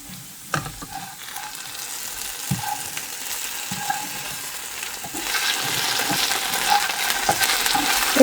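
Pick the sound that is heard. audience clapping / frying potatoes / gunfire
frying potatoes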